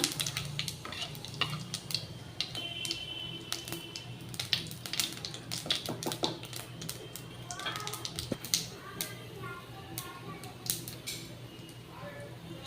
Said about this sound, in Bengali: এবার আমি একটু সাদা জিরে গোটা জিরে দিয়ে দিলাম